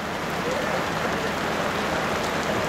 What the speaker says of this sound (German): Es regnet.